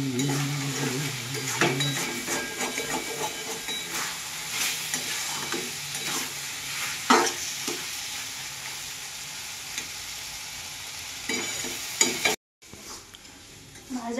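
Mixed vegetables with soybean chunks, turmeric and chilli frying in a pan, a steady sizzle with stirring scrapes and occasional utensil clinks, cutting off briefly near the end.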